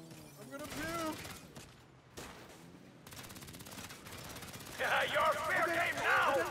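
Video game gunfire sprayed from a car roof in Saints Row, a steady rattle of shots running under a voice, with the mix growing louder and busier toward the end.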